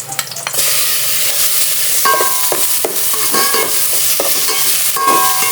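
Pork hitting a hot pan for Filipino lomi, a loud continuous sizzle and fry with clattering stirring scrapes throughout, close and steady, no voices.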